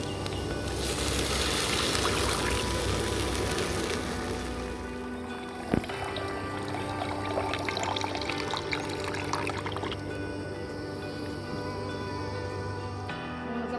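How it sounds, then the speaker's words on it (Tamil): Water pours steadily into a pot for several seconds, about three cups, a continuous splashing rush that tapers off, followed by a light clink and quieter trickling, for millet kozhukattai. "அந்த அளவுக்கு உங்களுக்கு இப்போ 3 கப் தண்ணி ஊற்றி காட்ட போகிறேன்"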